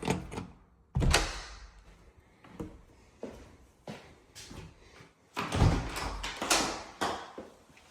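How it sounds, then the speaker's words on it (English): A bathroom door in a brand-new construction house is swung shut repeatedly and fails to latch, producing several loud thuds and rattling knocks spaced a second or two apart, close up with no talk. "You want your bathroom door to latch? Because this one doesn't."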